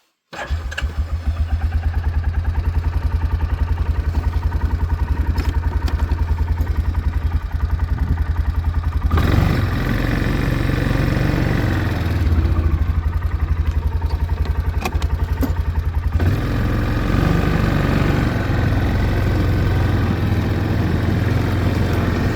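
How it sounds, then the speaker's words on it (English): An old Yamaha Kodiak ATV quad engine running loud and close, a steady rough drone with a low throb that shifts in pitch as it works through a load of wood. "we got the quad, so we're going to try and get that out"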